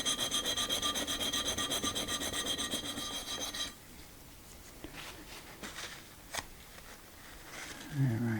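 Stanley 12-101 trimming plane flattening a wooden surface: a run of rapid, close rasping strokes at first, then quieter, sparser scrapes and rubs.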